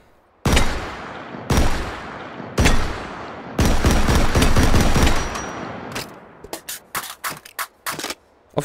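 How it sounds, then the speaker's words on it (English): Pancor Jackhammer automatic shotgun fired in the VR game Hot Dogs, Horseshoes and Hand Grenades: four loud blasts, the last a longer burst, then a string of quicker, quieter clicks and clatters of handling. "you can just pop in a new mag and start shooting immediately"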